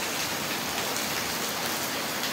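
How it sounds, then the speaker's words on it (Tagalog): Heavy rain from Typhoon Jenny in the Philippines pours down steadily, a dense, continuous hiss of drops drumming on surfaces, close and unbroken with no voices. "Bubuhos talaga ang lakas ng ulan."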